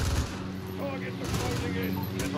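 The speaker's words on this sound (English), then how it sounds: "This is Hadir's sniper rifle! This thing is taking out tanks!" A sniper rifle shot rings out in the Call of Duty Modern Warfare campaign, with sharp cracks at the start and near the middle over a droning in-game background. Loud and close.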